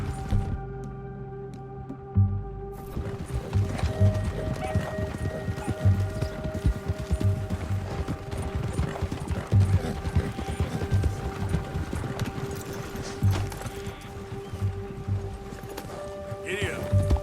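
A horse gallops with rapid, rhythmic hoofbeats in the game Red Dead Redemption 2, steady and close throughout, with a voice speaking over the clatter.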